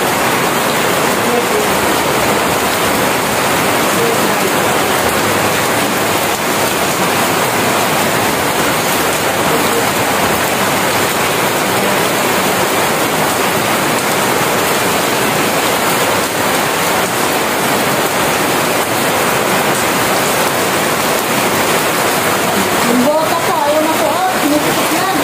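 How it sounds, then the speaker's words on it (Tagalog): Heavy rain pours down on a farm in a dense, constant roar of water that stays loud and even throughout, with a brief voice near the end. "Yan, sugurin po natin ang ulan."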